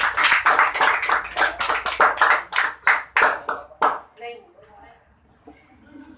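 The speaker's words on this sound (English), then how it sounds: "A round of applause, please." An audience at a student debate gives a loud round of rapid, crisp handclaps that ring out for about four seconds, then fade into a quieter room with a few scattered claps and faint voices.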